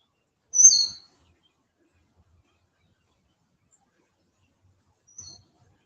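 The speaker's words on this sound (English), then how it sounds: "Oh, there goes a little bird in between them." Two brief high chirps from a small bird outdoors, one at the start and a fainter one near the end, separated by several seconds of near silence.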